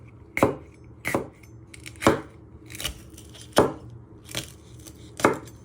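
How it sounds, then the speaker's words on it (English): Knife slicing a vegetable finely on a chopping board, seven distinct sharp chops at a steady, unhurried rhythm, close and clear with no talking. "you just want to finely slice it"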